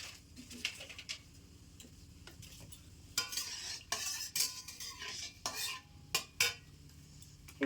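Bay leaves and whole garam masala spices are stirred in hot white oil and ghee in a pan on a stove for Bengali fried rice, with scattered metallic spoon clicks and scrapes over a faint sizzle, growing busier midway.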